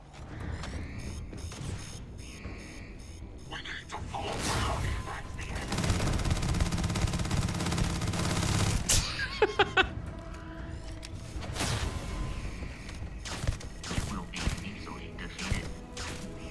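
Video game gunfire crackles in a rapid fusillade through the middle stretch, with mechanical clicks and creaks before and after. Scattered single shots follow, and a player talks over the action at times.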